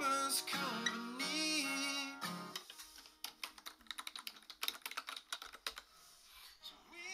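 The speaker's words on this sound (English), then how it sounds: "Yes, that was the sound of me typing before to typing out the lyrics." Song lyrics being typed on a computer keyboard: after a brief sustained tonal sound, a quick, uneven run of close, crisp key clicks and taps continues to the end, with no talking.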